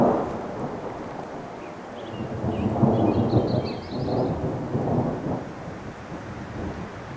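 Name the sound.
summer thunderstorm thunder heard from a van in Montana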